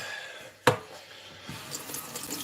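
Food being rinsed under running tap water in a kitchen sink, a short sharp splash followed by a softer trickle and drips, close and brief.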